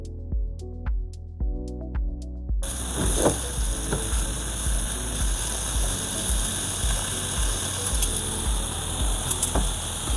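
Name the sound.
food sizzling in a frying pot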